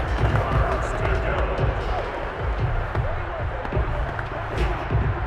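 Simulated stadium crowd from a Madden 22 football game on PS5, a steady, loud roar of cheering fans with scattered thumps and claps, continuous throughout.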